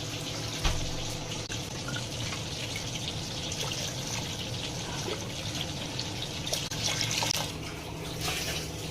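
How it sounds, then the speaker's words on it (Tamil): Water pours steadily into a rice pot, a continuous splashing gush with slight shifts in tone as the vessel fills; no talking. "இப்போ 12 கிளாஸ் ஊற்ற போகிறோம்."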